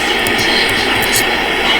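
Video game Boeing 747 in flight with afterburner engaged, a loud continuous jet engine roar with steady broadband rush and no other sounds.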